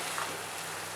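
Chicken for Chettinad sukka sizzles in a hot pan, a steady faint frying hiss with a sharp scrape or clatter at the very end.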